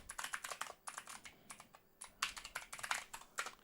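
Rapid keystrokes on a computer keyboard while an email address is typed in, a close, uneven rhythm of clicky taps in short bursts with brief pauses, no voices.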